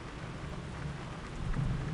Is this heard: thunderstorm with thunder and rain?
yes